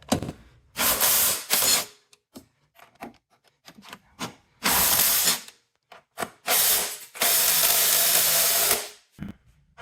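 Ratchet wrench working the upper strut top nuts on a 2003-07 Honda Accord front suspension, heard as several bursts of rapid clicking and rubbing, some longer and louder, separated by short quiet gaps and a few faint knocks.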